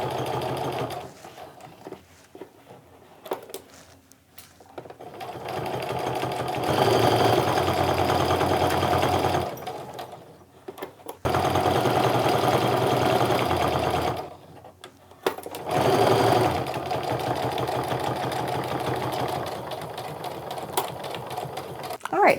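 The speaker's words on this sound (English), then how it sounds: "sewing the 1/4 inch away from everything" A sewing machine stitches fabric for a clutch bag a quarter inch from the edge. The close, steady motor hum and needle chatter run in several long bursts separated by brief pauses.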